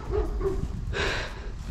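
A dog barks a few times in a residential neighborhood of Indianapolis, short, fairly close yelps over a rumbling outdoor background with no talking.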